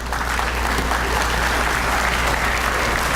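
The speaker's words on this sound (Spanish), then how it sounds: "Lo recibimos con un aplauso" An audience at a technical talk gives a welcoming round of applause, thick continuous clapping from many hands, loud and close, steady for the whole few seconds.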